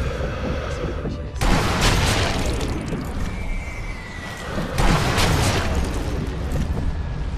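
In the war game Sniper Elite V2, two heavy bomb blasts boom out a few seconds apart, each a loud broadband crash that rumbles away, with players talking over the noise.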